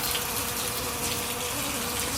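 Water gushes steadily through an AR Blue Clean pressure washer during a flush before an oil change, a constant broadband rushing hiss that stays even and close throughout.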